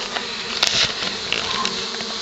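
Honey bees buzzing during a trap-out at a mountain cabin in Gatlinburg, a close, continuous busy hum with individual bees flying past.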